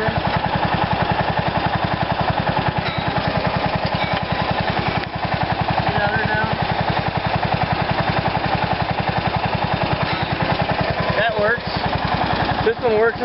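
A hydraulic mower deck raising motor on a garden tractor running with a steady, even mechanical drone and a rapid pulsing beneath it, close and loud, with someone talking over it.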